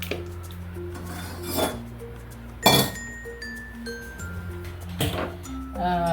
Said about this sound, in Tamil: கடாய் வச்சாச்சுங்க.